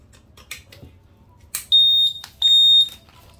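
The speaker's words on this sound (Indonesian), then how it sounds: "Ini alarm sistem aktif, kedip saat terganggu, kesenggol, senter kedip, matikan." A Honda Scoopy motorcycle's aftermarket alarm system sounds after a few faint clicks, giving two long, loud, high-pitched electronic beeps close to the microphone.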